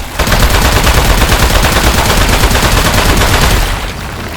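Rapid automatic gunfire in the video game Aperture Desk Job, a loud, dense stream of shots lasting nearly four seconds before cutting off.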